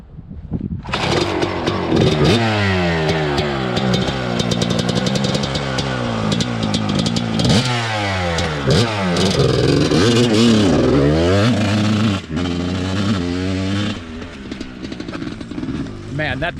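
A Suzuki RM250 two-stroke motorcycle engine runs close by, revving hard again and again with rising and falling sweeps, loud throughout and dropping back briefly between blips.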